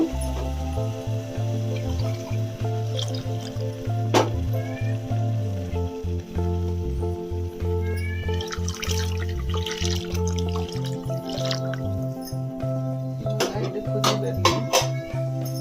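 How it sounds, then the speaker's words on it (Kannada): Water is poured and splashes into a pot of rice, with clinks and drips over a steady low hum and some faint talk in the background. "1 ಗ್ಲಾಸ್ ಅಕ್ಕಿಗೆ 2 ಗ್ಲಾಸ್ ನೀರು ಥರನೇ ಹಾಕ್ತಾ ಇದ್ದೀನಿ ನಾನು"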